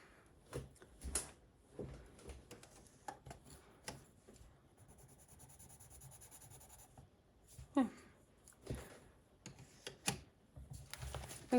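Colouring pencils scratching across paper in an adult colouring book resting on a book, quiet intermittent strokes and scribbles at close range with pauses between them.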